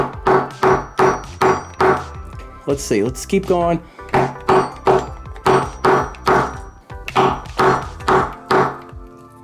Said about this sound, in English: So we're gonna hammer just lightly right in the center.